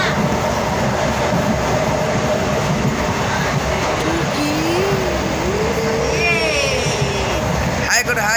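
A train at Sevoke railway station gives a continuous loud rumble and rolling clatter, with voices talking over it throughout.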